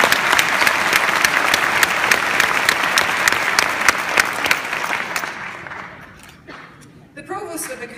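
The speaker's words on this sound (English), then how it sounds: "Can we give him another round of applause" Graduation ceremony audience applauding loudly with dense, steady clapping from a large crowd, fading out after about five seconds into quieter room noise.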